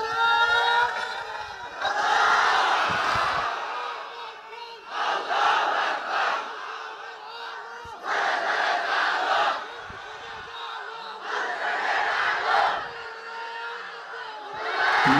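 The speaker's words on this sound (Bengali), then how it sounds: "দেন তো দেখি একটা তাকবীর।" A large gathering shouts a takbir chant in repeated call-and-response bursts, each loud roar of many voices lasting a couple of seconds, separated by brief lulls, in a packed religious talk setting.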